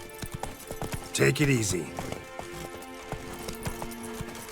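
Hooves of Roach, a horse in The Witcher 3, clip-clop in a steady rhythmic trot, with a brief whinny near the start and someone speaking over the hoofbeats.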